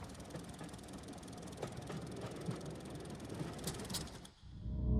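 Armoured train running on rails, a steady rolling rumble with rhythmic rail clatter throughout, fairly close, then cutting off abruptly near the end.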